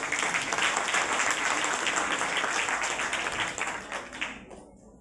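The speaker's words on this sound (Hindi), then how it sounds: "इसके लिए मोदी जी के लिए एक बार तालियां हो जाए।" A crowd applauds steadily in a dense wash of clapping at a Dr. Syama Prasad Mookerjee 125th birth anniversary event, holding for several seconds, then thinning out and fading near the end.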